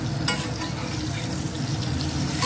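Salted pointed gourds (potol) frying in oil for a Bengali dorma, giving a steady close crackling sizzle with a sharp clink near the start.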